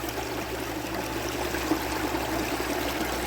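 A small brook runs over rocks in a steady, dense rush and trickle, continuous and close with no pauses, filling the whole stretch without any voices.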